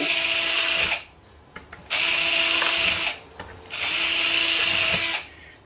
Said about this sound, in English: Now you can drill the other 3 holes